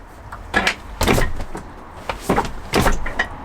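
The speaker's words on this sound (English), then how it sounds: "You hit the door, you can't swivel it." A van's swivel seat knocks repeatedly against the closed door, producing several loud, close, hollow thuds and bumps spread unevenly over a few seconds, with no talking.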